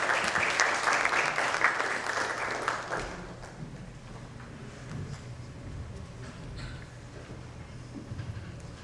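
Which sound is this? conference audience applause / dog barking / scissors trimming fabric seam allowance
conference audience applause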